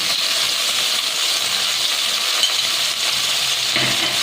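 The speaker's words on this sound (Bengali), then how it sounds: "এবার আমি ভালোভাবে মিশিয়ে পটলগুলোকে ভাজা করে নিচ্ছি।" Sliced pointed gourd (potol) seasoned with turmeric and salt is stirred and fried in a pan, giving a steady close hiss of sizzling oil with soft scraping and stirring noises throughout, no talking.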